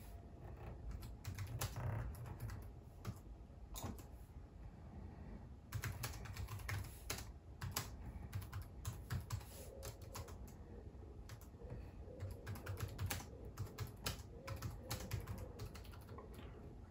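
Keys on a Raspberry Pi 400 computer keyboard clatter in steady bursts of fast typing, close and fairly quiet, with short pauses between runs and no voices.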